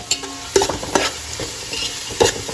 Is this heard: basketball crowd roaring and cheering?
no